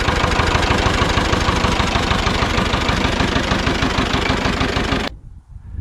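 A loud, steady turbocharged Ursus C-330 tractor engine runs at high revs with a rhythmic low pulse and a bright turbo whistle on top, then cuts off abruptly near the end.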